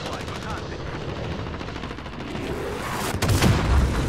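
Rocket and gun fire in Call of Duty: Modern Warfare (2019) multiplayer: a dense, continuous rattle of shots and explosions, building to a louder blast near the end, with faint voices underneath.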